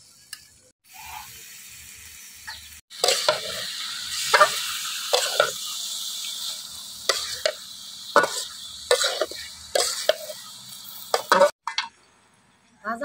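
Chicken goes into a pan of cooked-down spices for chicken biryani, setting off a close sizzle broken by repeated scraping stirs and clanks of a spoon, then fading at the end.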